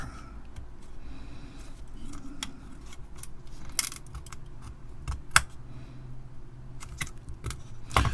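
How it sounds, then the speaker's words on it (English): Chips worked loose with a chip puller on a HeathKit H8-16 16K RAM card, making small irregular clicks and plastic creaks with a few sharper snaps, close and fairly quiet. "Just trying to rock these with the chip puller"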